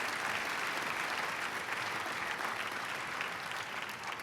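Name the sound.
audience applause for sponsors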